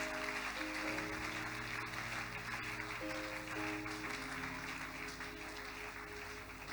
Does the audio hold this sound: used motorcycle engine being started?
no